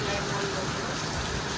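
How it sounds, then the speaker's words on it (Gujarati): Heavy rain pours onto a rooftop terrace, a steady dense hiss of drops spread evenly across the clip with no breaks. "બહુ જ ભયાનક વરસાદ ચાલુ છે"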